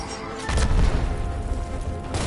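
A frag grenade going off in Gears of War Reloaded, a loud low boom with crackling debris that rumbles on for about two seconds amid game noise.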